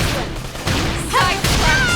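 Bursts of gunfire crack out in the Xenoblade Chronicles X video game, two sharp volleys in quick succession amid loud battle effects.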